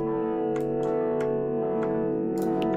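Sustained synth chord processed with grain delay and frequency shifting, a dense drone with scattered glitchy bursts flickering on top, steady and loud throughout, no voices.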